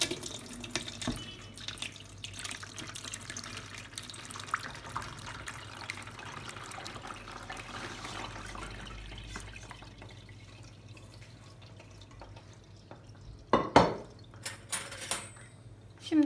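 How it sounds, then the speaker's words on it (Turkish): Cooked sour cherries tipped from a pot into a kitchen strainer for homemade cherry juice, a soft wet splashing and trickling with light clinks of pot and utensils, building to a brief louder splatter near the end. "Şimdi vişnelerimizi üzerine boşaltıyoruz."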